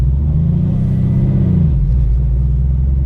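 A Porsche 993 engine revs up loud and close, a deep rumble that rises then falls back to a steady idle drone, with no talk.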